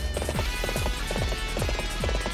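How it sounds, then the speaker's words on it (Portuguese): Horse hooves gallop in the Warriors Orochi 3 video game, a steady run of clip-clop beats at an even rhythm over constant battle background noise. "Cavalo lento, hein?"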